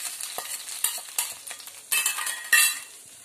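Ghee-fried cashews tipped into bisi bele bath rice and stirred through, giving a few close scraping stirs and soft clatters of a spoon against the pot, rising to brighter bursts toward the end.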